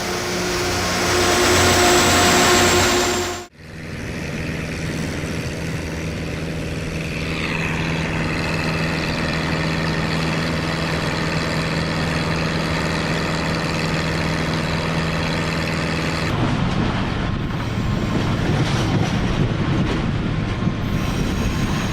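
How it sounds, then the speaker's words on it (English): A rail grinder train works along the tracks, smoothing bumps and defects with a steady loud grinding roar and rumbling wheels, after a brief louder burst at the start; the texture shifts partway through as it continues. "This is a rail grinder, used to smooth out bumps and fix defects in the tracks."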